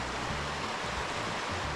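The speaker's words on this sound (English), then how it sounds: "It's a beautiful creek." A mountain creek among ponderosa pines flows in a steady, even rush of water, continuous and moderately close, with no voices.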